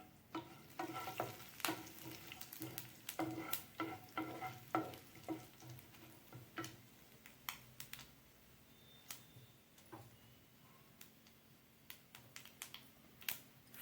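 Tempering spices crackle and fry in about two teaspoons of oil in a pan for a Telugu ridge gourd curry, with dense sizzling and sharp popping bursts that thin out over time, no voices.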